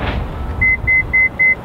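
Four short, evenly spaced electronic beeps from the power rear door of a 2014 Toyota RAV4, high-pitched and clear, following a brief low rumble.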